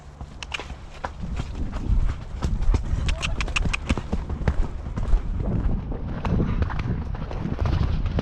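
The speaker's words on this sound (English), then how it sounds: "Can we have a sensible canter, Pips?" A horse canters with rapid rhythmic hoofbeats, heard close from the rider's position, with a steady thudding and clattering throughout while a rider talks over it.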